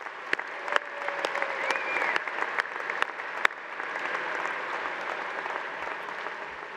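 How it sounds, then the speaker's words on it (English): University commencement ceremony audience applauding in a large hall, a broad steady roar of clapping with occasional sharp individual claps, continuing for several seconds with no talking. "Let's give them all a round of applause."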